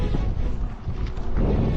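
Strong wind buffets a microphone while cycling outdoors among trees, producing loud, gusty, rumbling roar that surges and dips unevenly throughout.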